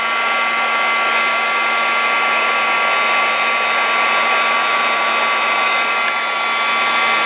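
A handheld heat tool blows a steady, loud, high whirring hiss without pause while warming a vellum embellishment on a handmade card.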